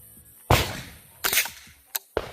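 Suppressed .22 rifle shots from a SW AR15-22 fitted with a HUXWRX FLOW 22 Ti suppressor: three sharp, close cracks spaced irregularly, plus a smaller metallic click between them.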